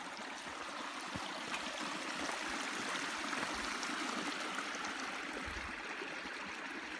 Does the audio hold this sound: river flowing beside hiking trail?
yes